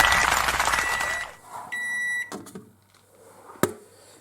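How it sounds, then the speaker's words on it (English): A microwave oven beeps after heating beans: a steady electronic tone of about half a second, preceded by loud running noise and followed by clunks and a sharp click. "Ah, beeping."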